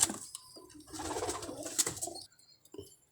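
Pigeons cooing at a pigeon club, soft low throaty coos with a few bird calls, moderately near and fading into quiet toward the end, no talking.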